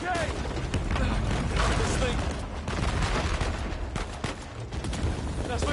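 Constant Uncharted 4 firefight: overlapping shots and rattling automatic fire pile up into a dense, unbroken barrage, loud and close, with a voice yelling over the chaos.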